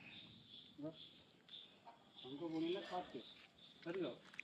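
A hen clucks a few short times close by, mixed with soft chirping in the background and quiet talk.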